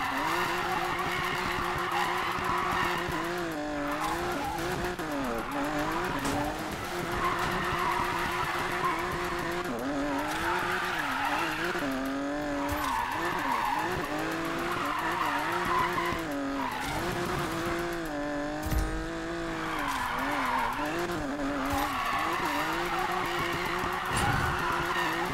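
Cars drift in Need for Speed Payback with a tire-shredding drift machine. Sustained tire squeal and skidding wail over a revving engine fill the whole stretch, with pitch bending up and down through the slides.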